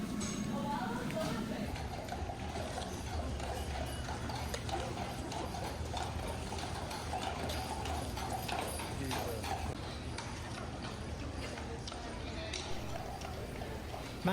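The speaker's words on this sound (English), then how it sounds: "no noise except the occasional clip-clop of the carriages" Horse-drawn carriage hooves clip-clop steadily on Mackinac Island streets, a continuous rhythmic clatter of shod hooves at moderate distance, with background voices and ambient street noise throughout.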